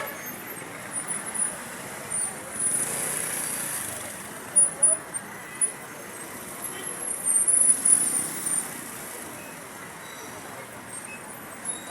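Road traffic of cars and trucks building up near a mall, a steady close rumble of engines with passing vehicles swelling louder several times.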